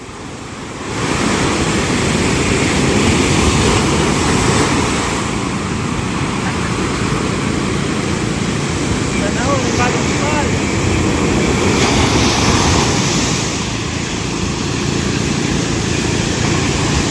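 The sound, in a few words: big sea waves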